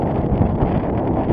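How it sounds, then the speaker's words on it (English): A sailboat heeled over close hauled in building wind, with a steady roar of wind buffeting the microphone and a constant rush of water along the hull, loud and unbroken throughout. "So sailing close hauled and moving pretty good."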